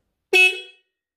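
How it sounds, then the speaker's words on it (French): A single short, loud honk from a newly replaced small motorcycle horn, a bright buzzy tone that sounds alone and fades quickly. "on a également changé le petit klaxon"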